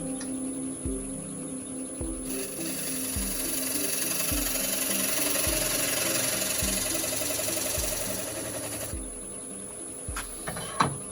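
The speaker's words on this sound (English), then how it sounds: "the edge of that tenon. And for that I have just a small 1/2 inch skew chisel." A half-inch skew chisel cuts along the edge of a sycamore tenon turning on a lathe, a steady machine hum with a rhythmic scraping pulse, continuous and close.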